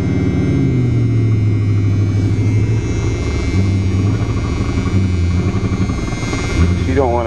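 A 1976 Chrysler New Yorker with a 400 big block V8 revs steadily in deep snow as its drive wheel spins, a loud continuous engine drone with shifting pitch running close throughout, with people talking over it.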